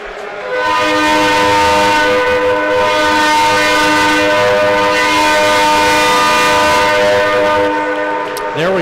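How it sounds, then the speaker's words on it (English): A loud, sustained train horn blasts through an ice hockey arena for several seconds during a Springfield vs Wichita game, with crowd noise under it. "Now we have a train horn."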